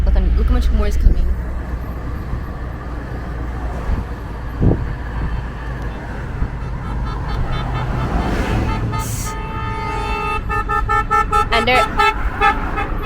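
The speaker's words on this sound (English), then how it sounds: "And then they just honk." Car horns toot repeatedly in congested Jamaican road traffic, sharp honks rising over a steady engine and traffic rumble, growing busier and more layered toward the end.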